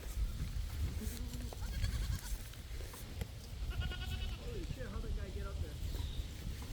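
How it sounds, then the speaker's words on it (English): A goat bleats several times at close range, wavering calls over a noisy outdoor background, with other bleats from livestock nearby and a little quiet talk. "Look at another goat."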